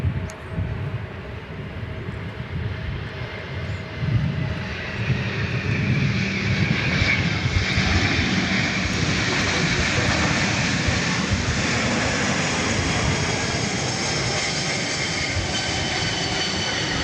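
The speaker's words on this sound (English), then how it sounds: "A very distinctive sound does that plane make." A steady, loud propeller airplane engine drones continuously at DFW Airport, a deep throbbing roar with a rising hum that holds throughout.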